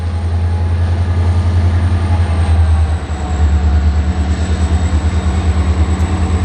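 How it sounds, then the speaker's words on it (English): A Norfolk Southern northbound local freight train, running in reverse in Marion, Ohio, passes close and loud, with a deep locomotive engine drone and rhythmic rumbling of rail cars throughout. "but there's the locomotive."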